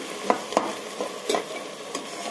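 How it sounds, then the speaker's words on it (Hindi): Chopped tomatoes sautéing with masala in a pan, a soft sizzle under five distinct scraping stirs at uneven intervals, close up with no talking. "टमाटर ऐड करूँगी अच्छे से इसको भून लेंगे"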